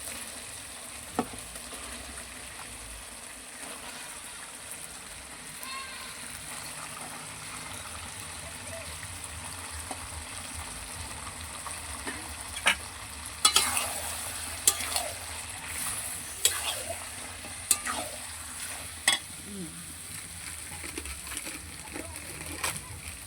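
Chicken cooks in a watery spice masala for home-style chicken kosha. A soft sizzle runs underneath as a spoon stirs, with scrapes and splashy clanks growing more frequent toward the end. A voice is heard at times.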